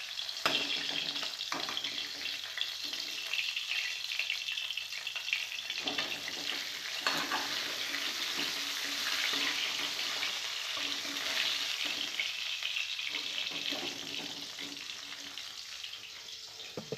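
Catla fish frying in oil in a pan, a long steady hiss and sizzle with occasional soft knocks and scraping, heard up close without talk.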